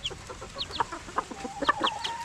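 Native chickens cluck close by in a backyard flock, short repeated calls and chirps overlapping irregularly, moderately loud with no voices.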